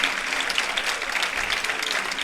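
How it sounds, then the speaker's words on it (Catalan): Audience applause at an outdoor quartet performance in Alfarb, a steady wash of many hands clapping at moderate distance, continuous and even throughout with no talk. "L'aplaudiment."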